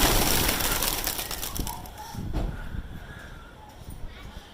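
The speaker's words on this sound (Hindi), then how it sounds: "माशाल्लाह इनके बहुत प्यारे कबूतर हैं" Pet pigeons kept on a neighbourhood rooftop coo softly through steady background noise, with someone talking over them in Hindi.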